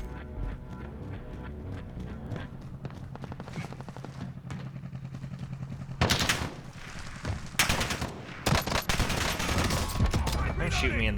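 Rapid gunfire bursts in a video game played on an Asus ROG Strix G15 laptop with a controller, a quieter rattling stretch followed by louder, sharper shot clusters with gaps between them.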